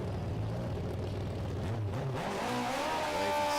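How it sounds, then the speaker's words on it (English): A drag-racing motorcycle revs hard during a burnout at a championship meet, a loud sustained engine roar that climbs in pitch with rising revs, heard alone without talk. "Josh will get his bike fired up and just another one of those classic burnouts"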